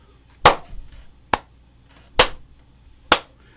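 Four sharp hand claps in a steady beat, the first and third louder and accented, the second and fourth lighter, each crisp and close with a short room ring in quiet surroundings.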